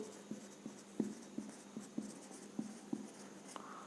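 Pen writing out a statistics maths solution on paper, heard as a series of soft, quiet scratching strokes at a steady rhythm close to the page, with no one talking.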